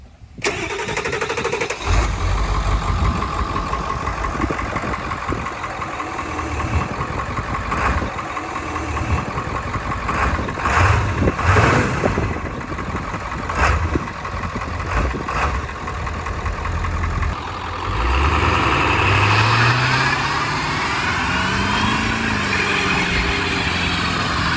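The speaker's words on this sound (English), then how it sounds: "Do a little cold start." A Ford OBS F250 with a 7.3 Powerstroke diesel, a barn find, cranks through several rough starter bursts before catching, then settles into a loud, clattering idle with a brief rise in revs near the end.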